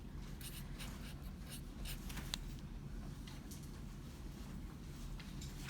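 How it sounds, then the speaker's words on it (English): Pen or pencil writing down a chemical formula in a classroom, faint scratchy strokes coming in short irregular bursts over a steady low room hum, no voices. "you write down the formula"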